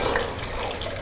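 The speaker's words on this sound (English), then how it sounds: "When I'm pouring booze, I feel free" Wine punch pours in a continuous splashing stream for a moment, close by, with no talking over it.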